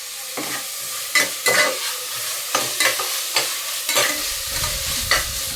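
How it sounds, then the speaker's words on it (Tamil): Tomato and ginger sautéed in a pan for mutton curry, a steady sizzle broken by repeated scraping stirs of a spoon, close and moderately loud with no talking. "தக்காளி போட்டு வதக்கிடலாங்க."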